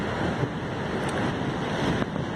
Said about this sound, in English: I'm sorry if it's windy now, got double noise